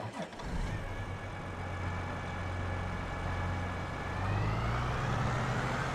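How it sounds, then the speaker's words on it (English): A vehicle engine in the Farming Simulator 22 video game starts and settles into a steady idle, a low even rumble with a rising tone near the end, and no talking over it. "That engine sounds nice"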